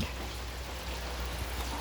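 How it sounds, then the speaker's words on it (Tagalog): Steady rain hissing without a break, with a low rumble of running water underneath and no voices. "Hanggang mamaya pa po itong ulan na to."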